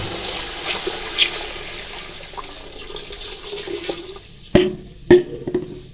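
About 1.5 litres of water pours into a cooking pot of softened peas while chicken mandi is being made. It is a steady splashing rush with two sharp knocks near the end, and no one speaks.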